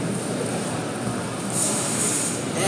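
A train passes at a distance, a continuous rumbling rail noise with a high squealing tone rising partway through, no voices.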